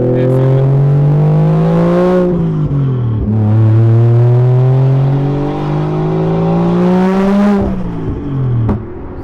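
A Toyota 1JZ inline-six in an IS300 with its blow-off valve removed revs steadily for about nine seconds, rising and falling through several throttle blips, loud and close with no talk.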